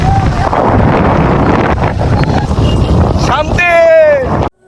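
Wind roars and buffets against the microphone in a loud, continuous rush, with a sharp squeal near the end before it cuts out.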